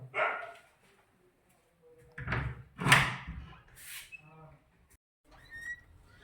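Knocking on a door, several separate raps and bursts spaced through the clip, fairly close and moderate in level, with voices speaking between them.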